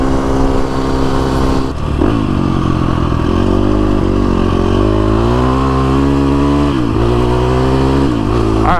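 A KTM 350 SX-F dirt bike engine drones loudly and steadily while riding, holding high revs near the limiter with shifting pitch and brief dips at gear changes, close and continuous.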